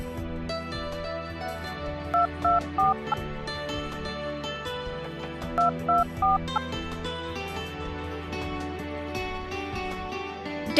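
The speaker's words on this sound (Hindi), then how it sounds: "डैड को फोन लगाती हूँ।" Two quick bursts of touch-tone telephone dialing, a few beeps each, heard over a steady low background hum of music.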